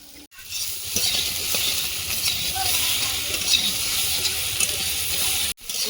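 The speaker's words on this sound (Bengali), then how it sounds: "ডিম আলু সয়াবিন সব একসঙ্গে কষিয়ে নিয়েছি" Potato, egg and soybean chunks stir-fried together in a pan give a steady close sizzle and hiss, with faint stirring scrapes throughout.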